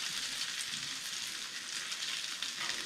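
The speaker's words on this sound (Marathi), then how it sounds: "मासे भाजून झालेले आहे" Fish frying in a pan as part of a spicy home-style fish recipe, giving a steady, dense sizzle that holds level throughout, close and fairly loud, with no one talking.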